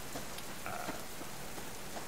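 Rain falls steadily in the survival game Subsistence, an even, moderately quiet hiss of drops on surfaces with no other sounds.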